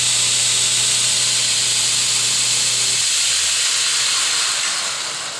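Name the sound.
DSM grinder with 1hp motor running under load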